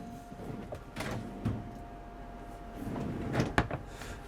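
Several drawers in a Tiffin Phaeton 44 OH Class A motorhome slide open and shut in quick succession, with soft thuds and scraping, fairly quiet in a still room.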